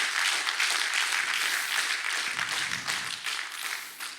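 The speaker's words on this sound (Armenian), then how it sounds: "Եկեք բարձր ծափարենք" A church congregation claps loudly and steadily together, a dense wash of applause that carries on alone throughout and eases off slightly toward the end.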